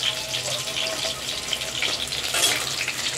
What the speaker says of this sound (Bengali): এখানে পকোড়া ভাজা হচ্ছে।